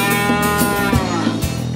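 A cow moos in a long, drawn-out, steady low call that lasts the whole short moment, loud and close.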